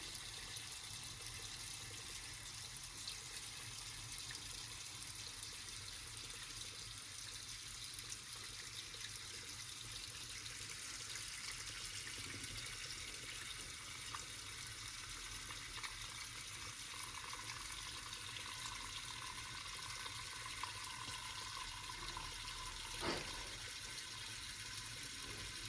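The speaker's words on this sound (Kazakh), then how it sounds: "Үстіне суымызды, мұздай салқын суымызды құйып шығатын боламыз" Ice-cold water poured over meat in a pot for Kazakh beshbarmak, a steady, even rushing stream running continuously throughout, moderately close and without speech, with one brief knock near the end.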